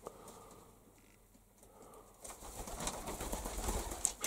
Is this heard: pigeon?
yes